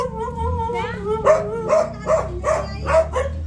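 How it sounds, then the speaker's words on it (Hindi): Two dogs at a relative's home bark repeatedly in a steady rhythm, loud and close, while people talk excitedly in Hindi over and between the barks. "मामी ने स्वागत में दो दो कुत्ते रख रखे"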